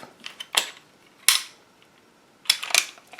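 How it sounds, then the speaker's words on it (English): A Glock 34 pistol slide, fitted with a KKM Precision barrel, snaps forward in a few sharp, close metallic clacks and clicks, separated by quiet pauses. "bring them down, and let the slide right forward"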